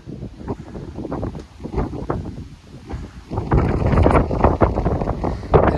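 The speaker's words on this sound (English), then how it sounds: "It is so windy up here." Strong wind at a high place batters the microphone in loud, uneven gusts, building into heavier continuous buffeting toward the end.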